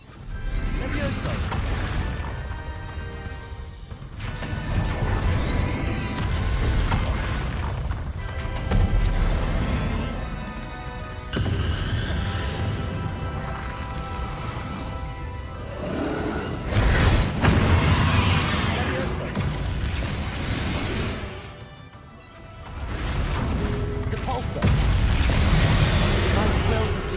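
Confringo fire spells in the video game Hogwarts Legacy go off as a loud run of booming blasts and crashes that recur throughout a chaotic battle, while a voice talks over the noise now and then.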